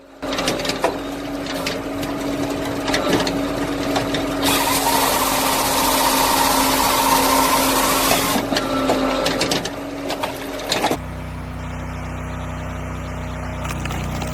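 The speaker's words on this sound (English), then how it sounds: "Amid the steady growl of the engine and the scent of fresh oak" Engine of a Wolf Ridge Pro 28C wood cutting machine working oak, a continuous loud mechanical whir with a harsher, louder stretch in the middle before it drops to a steadier hum.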